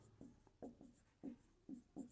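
A pen writes on paper in short strokes, about six quick scratches in two seconds. The sound is close but quiet, with no talking.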